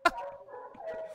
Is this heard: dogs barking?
yes